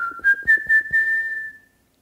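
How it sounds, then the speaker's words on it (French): A person whistling with the mouth: one clear high sustained tone with a few short breathy pulses at the start, close and alone, fading out after about a second and a half. "Siffler, c'est émettre un son aigu en soufflant de l'air par la bouche."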